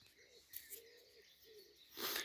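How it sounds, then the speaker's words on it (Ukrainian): Soft morning bird calls repeat a few times in a quiet outdoor setting by a forest lake, with a brief rustling burst near the end. "Пташечки співають."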